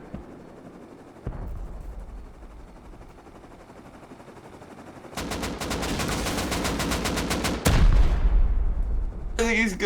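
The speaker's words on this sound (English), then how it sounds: "Fly close. I'm gonna hit him with a rocket." Helicopter combat in a video game sounds with a low engine drone at first, then a sudden long burst of rapid gunfire, followed by a loud rocket blast and more firing toward the end.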